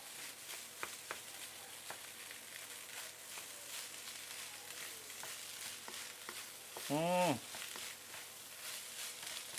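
Rice stir-fried with lap cheong cured sausage and egg in a pan, a steady low sizzle under repeated soft scraping strokes of the spatula, with one brief ringing metallic clang partway through.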